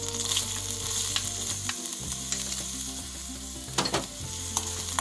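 Chopped onions with garlic sauté in a pan for a pumpkin soup, giving a steady close sizzle with scattered crackles and a few sharper scraping clicks, no voices over it.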